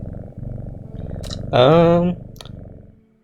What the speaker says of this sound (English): Ah, she's petting the kitty.